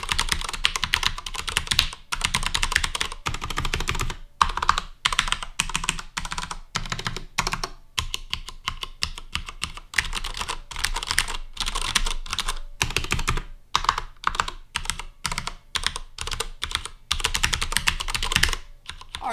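Steady, continuous typing on a Durgod Taurus K320 TKL mechanical keyboard with linear Cherry MX Red switches and thick double-shot PBT keycaps, close and crisp, with brief pauses between bursts and no talking.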